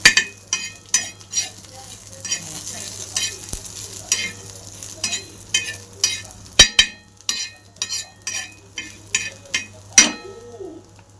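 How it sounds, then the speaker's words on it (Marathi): Chilies and coriander seeds dry-roasting in a pan for a black masala, with repeated sharp scraping and stirring strokes in an uneven rhythm over a low steady hum, close and fairly loud, no talking. "मिरच्या धने पण भाजून झाले"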